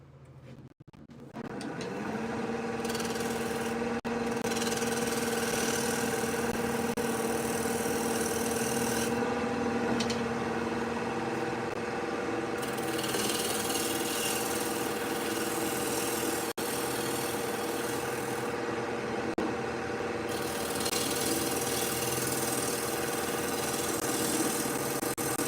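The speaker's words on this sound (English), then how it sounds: "Watch a little wood turning." Wood lathe spinning a wooden bowl blank, a steady continuous motor hum with tonal whine and faint cutting texture, close and even throughout, no talking.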